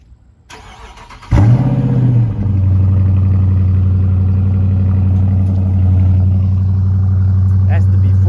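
Cold start of a Dodge Charger R/T with stock exhaust and 4-inch tips: a starter whir, then a loud catch and rev flare that settles into a steady, deep, rumbling idle close by.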